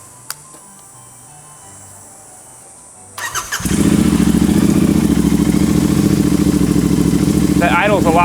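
A Royal Enfield motorcycle engine on a race build cranks and catches, then settles into a loud, steady thumping idle up close, with a brief voice heard near the end.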